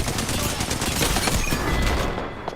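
Rapid video game gunfire, a dense barrage of loud overlapping shots filling the whole moment without pause.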